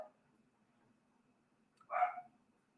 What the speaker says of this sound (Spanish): se escucha mucho el ladrido del perrito